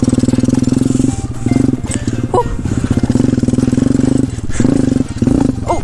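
Pit bike motorcycle engine revving continuously while being ridden, a loud, close buzzing drone that rises and dips as the throttle changes, with a short lull partway through.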